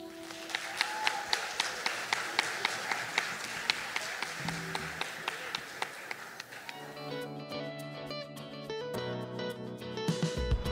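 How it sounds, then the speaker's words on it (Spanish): Audience applause at a student voice concert fills most of the stretch as a steady patter of many hands, then fades as instrumental music begins. "Vamos a darle un fuerte aplauso a Evan."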